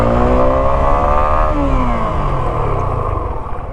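Suzuki V-Strom 250 motorcycle ridden hard during a brake test, the engine loud and close, revving up with rising pitch then dropping off as it decelerates and the throttle closes, ending with a rough, fading idle.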